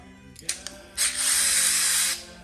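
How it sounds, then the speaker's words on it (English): A Phillips head screw is spun out of a toilet paper holder, a couple of small clicks followed by a steady whirring rasp of the driver turning for about a second, close and fairly loud. "There's a Phillips head screw in there, and we need to take that out. So I get the screwdriver and spin it out."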